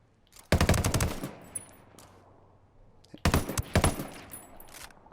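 Two loud, close bursts of rapid automatic fire from an AC-AR assault rifle in the video game Ghost Recon Wildlands, each lasting about a second, separated by a quieter stretch of background ambience.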